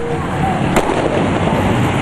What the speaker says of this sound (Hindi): पुलिस ने आंसू गैस छोड़ी और रबर की गोलियां दागी